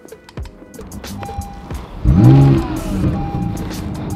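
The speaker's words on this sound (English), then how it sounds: "The engine just shut off." A 2017 Acura NSX with a hybrid powertrain, its engine running close by with a rising rev and a strong swell before settling into a steadier hum, amid clicks and cabin noises.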